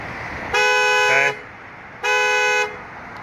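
A 2012 Honda Ridgeline's alarm horn blares in two loud, steady honks, each lasting under a second, separated by a short pause.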